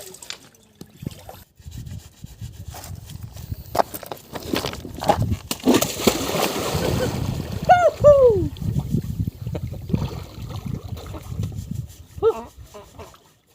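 Splashing and trickling spring water while people bathe outdoors, with intermittent scoops and pours and voices talking and calling out over the watery sounds.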